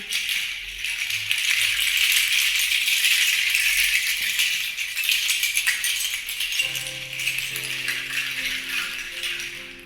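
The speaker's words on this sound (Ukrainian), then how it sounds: "можна проробити дірочки в шкарлупі і, прив'язавши їх до палички, мати отакий звук" Dry, dense rattling of nutshells tied to a stick, shaken continuously, close and fairly loud, with a few brief tonal notes near the end.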